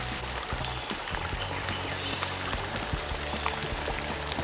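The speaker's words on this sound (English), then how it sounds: "it's starting to rain pretty good again" Rain falling in the woods, a steady close patter of drops ticking on leaves and ground, moderately loud, with no talking.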